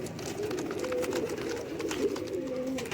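Lakha breed pigeons coo in low, overlapping murmurs, a steady throaty burble close by that carries on without pause alongside faint background noise.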